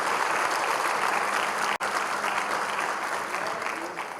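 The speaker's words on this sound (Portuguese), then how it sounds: "dando uma salva de palmas para Jesus" A church congregation claps together in a sustained, dense round of applause at worship, loud and steady throughout, with only a brief dropout before it carries on and eases slightly near the end.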